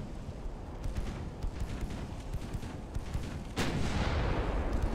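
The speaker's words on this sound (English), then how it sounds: "Now the mains are firing." Warship main guns in Ultimate Admiral Dreadnoughts fire in a series of dull booms over a continuous low battle rumble, ending with a larger blast that lifts the noise and hangs on.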